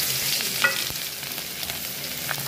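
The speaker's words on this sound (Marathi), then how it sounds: "या तडक्याला तर आपण तेल घेतलंय आणि मगाशी जे आपण इन्ग्रेडियंट्स घेतले जसं की आता हा लसूण टाकलं" Garlic hits hot oil for a dal tadka and sizzles in a steady, close hiss, with a few light clicks and spatters scattered through.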